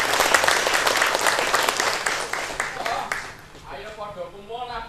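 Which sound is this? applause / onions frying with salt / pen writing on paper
applause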